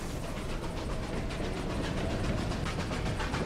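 A train in the Desperados 3 video game rumbles steadily with a regular clickety-clack beat, a continuous moderate roll with no pauses.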